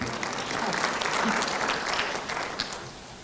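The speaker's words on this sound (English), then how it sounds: "That's where you clap." An audience applauds steadily, a dense wash of clapping that swells slightly and then begins to thin out toward the end.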